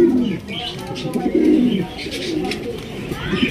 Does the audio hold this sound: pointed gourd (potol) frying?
no